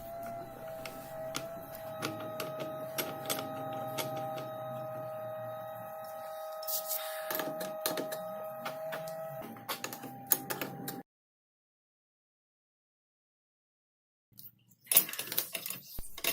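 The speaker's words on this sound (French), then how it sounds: "compresser les ressorts, donc visser les vis des compresseurs petit à petit l'un après l'autre" Spring compressor screws on a 2009 Peugeot 308 front shock absorber are turned by hand, giving close, repeated ratcheting clicks and metallic ticks for about eleven seconds, then silence before a few more clicks.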